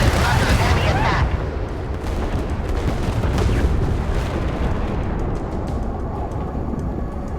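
Naval guns boom in the Force of Warships game, a dense rumbling barrage that is loudest at the start and then rolls on as a continuous heavy roar.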